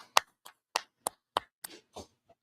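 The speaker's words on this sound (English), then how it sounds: "Let's clap it up." A handful of separate, sharp claps land at uneven intervals, about eight in all, fairly quiet and dry with no voices over them.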